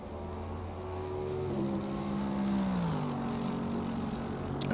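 Race cars lap Imola in a video game, and the engine tone sweeps down through the gears as one car passes. The sound is faint and steady, with no talking.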